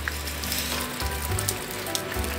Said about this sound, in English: here it's raining like, I don't know, the monsoon